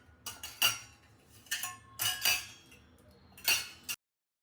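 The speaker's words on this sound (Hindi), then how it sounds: "तो जितने भी बर्तन थे सारे निकाल लिया है मैंने और मैं इसको करूँगी अरेंज" Kitchen utensils and dishes being set out and arranged at home, giving several separate clinks and clatters of metal pots and cutlery in short bursts, close and fairly quiet, with no voices.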